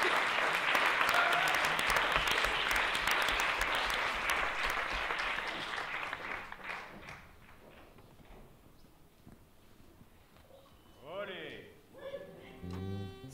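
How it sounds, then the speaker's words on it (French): An audience applauds loudly for several seconds after a stage performance, then the clapping fades away into quieter room sound with a few scattered noises and brief voices near the end. "applaudissez, Salvia"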